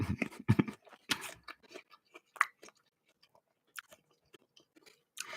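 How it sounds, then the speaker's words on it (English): Someone bites and chews an apple close to the microphone, giving sharp wet crunches in quick irregular bursts, loud at first and then sparser, separated by short quiet gaps. "Now I'm just crunching an apple in your ear."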